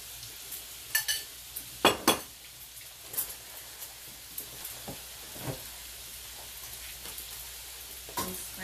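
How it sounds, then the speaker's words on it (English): Eggs scrambling in a hot pan, a steady low sizzle with scattered sharp scraping and clinking of a utensil against the pan, fairly quiet and close, with no talking. "I'm going to go ahead and scramble the eggs"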